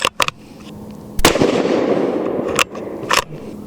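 A single sharp crack from a Ruger American Predator Gen II .223 Remington rifle firing 53-grain Hornady V-Max rounds, loud and close, followed by a lingering outdoor rumble and a few clicks and knocks.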